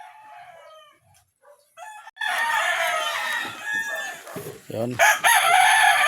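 Rooster crowing from backyard chicken coops, loud and close, with a long crow and further calls following, after a brief spoken word.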